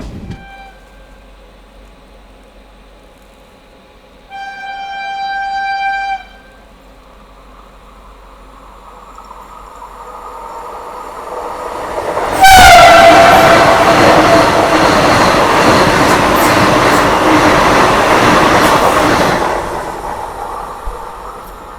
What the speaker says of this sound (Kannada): ನಮಗೆ ಒಂದೇ ಭಾರತ್ ವಿಶ್ವಮಾನ ಎಕ್ಸ್ಪ್ರೆಸ್ನ ಓವರ್ಟೇಕ್ ಮಾಡುತ್ತೆ ಸೊ ಬನ್ನಿ ಅದೊಂದು ಹೈ ಸ್ಪೀಡ್ ಆ್ಯಕ್ಷನ್ ನೋಡಿಕೊಂಡು